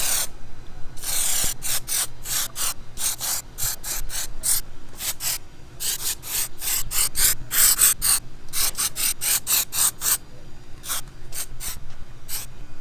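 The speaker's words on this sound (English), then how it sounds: "I'm going to spray my second coat" Spray can applying a second coat of Plasti Dip onto a tire, with repeated short aerosol bursts in an irregular rhythm, close and fairly loud, no talking.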